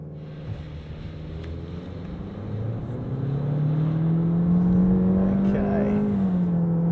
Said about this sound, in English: So I'm going to switch traction control off, pop that into S mode, dial up some revs and see how we go.